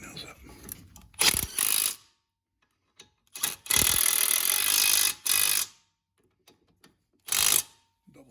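Pneumatic impact gun tightening wheel bearing bolts on a Chevy Cruze, several loud ratcheting bursts of one to two seconds each, separated by quiet pauses.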